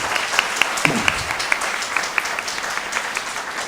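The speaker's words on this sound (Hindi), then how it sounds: "उसके लिए एक बार आपको तालियां बजानी पड़ेंगी" An audience at a birthday celebration event claps steadily for a few seconds, a soft continuous patter of hands with a few sharper claps standing out and faint voices in the background.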